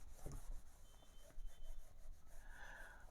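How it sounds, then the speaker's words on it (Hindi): Rubbing and wiping strokes of an eraser clearing writing from a board in a classroom lesson, a soft scraping texture that comes and goes near the mic for about three seconds, with no talking. "चलिए अभी इसको हम लोग थोड़ा सा मिटाते हैं।"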